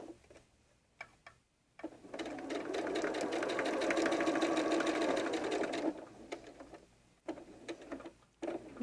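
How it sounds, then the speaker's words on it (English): Sewing machine running a burst of rapid, steady stitching along a doll backpack seam, close and fairly quiet, with a short back stitch and brief start-stop clicks before and after. "We're going to sew a 1/4 inch seam allowance right here"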